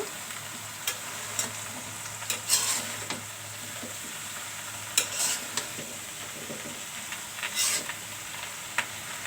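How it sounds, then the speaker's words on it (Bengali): Bottle gourd curry sizzles gently in a pan while a spoon stirs it, giving several scraping strokes and clinks over a constant frying hiss, all heard up close. "এখন আমি লাড়া দিচ্ছি।"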